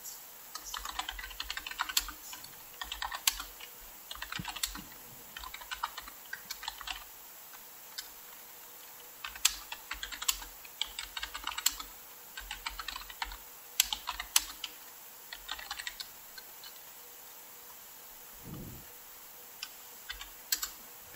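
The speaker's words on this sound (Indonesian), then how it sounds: "Kita ketik di sini." Steady bursts of typing on a computer keyboard while entering data in an Excel VBA userform, irregular close clicks with short pauses, heard alone without talk.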